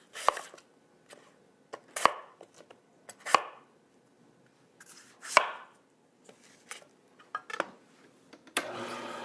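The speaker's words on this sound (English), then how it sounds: "I'm going to cut them into chunks so that they fit through the chute of the juicer" Knife chopping green apples into chunks on a board, a series of sharp, separate cuts at an irregular rhythm with quiet gaps between them, close and clear.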